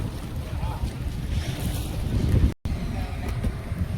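Rough sea surging against a windy fishing coast, a continuous roar of waves with heavy wind buffeting the microphone and a brief dropout midway.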